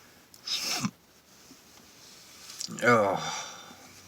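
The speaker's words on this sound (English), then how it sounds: "It's just, God, I gotta sneeze" Two pepper-triggered sneezes: first a short, breathy burst, then a louder, voiced, drawn-out sneeze a couple of seconds later, both close and isolated against quiet.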